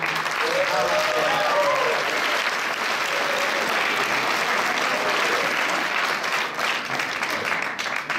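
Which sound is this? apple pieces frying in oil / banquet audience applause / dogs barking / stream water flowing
banquet audience applause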